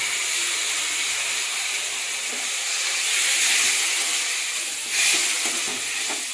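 Tamarind water is poured into a simmering fish curry, producing a loud, steady sizzling hiss with a brief surge partway through and no talking.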